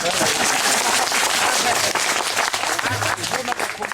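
Audience applause at a national seminar on rivers, wells and water harvesting at a college, dense sustained clapping from a large crowd filling the whole stretch, with some voices mixed in.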